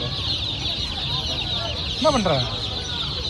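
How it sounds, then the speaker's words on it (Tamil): Chickens cluck and squawk at a busy market, with one sharp rise of agitated calls in the middle, while a person speaks briefly over the steady crowd hubbub. "கோழிங்களுக்கு நடுவில் புறாவை போட்டு வச்சுருந்தாங்க."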